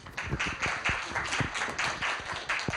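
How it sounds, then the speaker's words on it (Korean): Audience applause welcoming a speaker at an academic AI forum, a steady patter of clapping from a modest crowd with distinct individual claps standing out close by, continuing evenly throughout. "큰 박수로 환영해 주시기를 부탁드리겠습니다"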